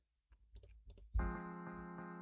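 A few soft clicks, then a single piano chord strikes and rings out, sustaining evenly to the end.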